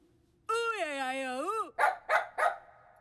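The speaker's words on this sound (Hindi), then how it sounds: "फिर ये कुत्ता भौंकता है" A dog gives a drawn-out, wavering howl-like whine followed by three quick, sharp barks, close and clear in a comedy scene.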